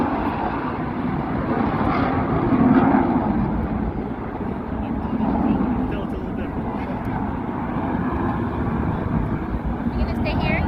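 CF-18 Hornet fighter jets fly over the Cold Lake airshow in a broad, rushing roar that swells and fades, with people talking throughout.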